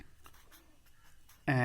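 A pen scratches across paper in soft, short strokes during a geometry construction for a ninth-class maths exercise. The writing stays faint and close, and a voice cuts in at the end.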